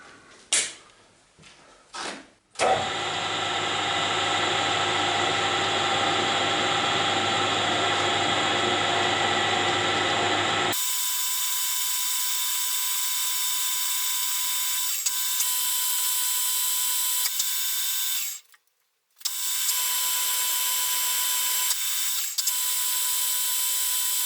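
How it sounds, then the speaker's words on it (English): Small bolt being threaded with a 2.5 tap, a few clicks and scrapes followed by a long steady whirring, grinding drone that later shifts to a higher whine, with a brief pause before it resumes. "Let's cut some threads"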